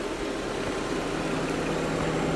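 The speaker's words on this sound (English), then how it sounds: "Excuse my engine noise." Parked Jeep idling at a desert stone house site in Arizona, a steady low engine rumble close to the microphone, constant and unbroken with no voices.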